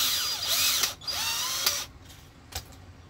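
A power drill drives screws into a strip of material, each run a close, whining burst of under a second with the pitch rising and falling, followed by short pauses and a faint click.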